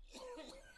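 A single short, close cough sounds in a cough medicine radio advert, brief and clear at a quiet level.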